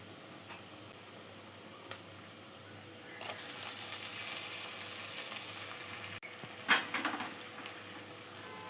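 Chopped tomato sautés in a pan for a Kerala-style prawn curry, a soft sizzle that swells louder midway, broken by a few utensil clicks and stirring scrapes, with no talking.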